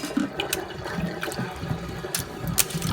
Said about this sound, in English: Let that water out.